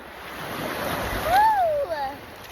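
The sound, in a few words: ocean waves splashing at the beach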